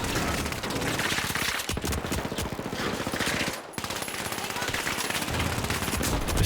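Rapid automatic gunfire in The Finals rattles almost without pause, dense and loud, with a brief break before the bursts resume.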